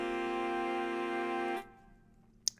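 A horn section with baritone saxophone sustains a single open-position chord, full and steady for about a second and a half before cutting off, leaving near silence and one faint click.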